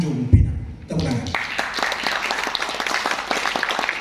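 Audience applause at an Indonesian literature seminar in Tanjung Pinang: a brief low thump, then steady, dense clapping from a crowd that carries on for several seconds, fairly close and even in level.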